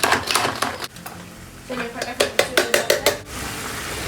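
Minced meat keema with green chilies being stirred in a pan, a utensil clattering and scraping against the metal in quick irregular strokes, with brief pauses between bursts, heard up close in a home kitchen.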